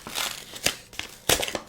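A tightly glued paper envelope holding a new Trade Republic bank card is torn open by hand, giving a few sharp close rips and crinkles in short bursts with pauses between.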